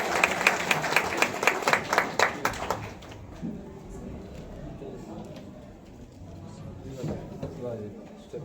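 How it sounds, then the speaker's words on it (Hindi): Applause at a teachers' honour ceremony at a public school: a burst of sharp, rhythmic clapping from a gathered crowd for about three seconds, then fading into room murmur with a few scattered claps later. "एक बार जोरदार तालियां बजाइए।"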